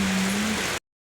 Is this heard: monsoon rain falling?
yes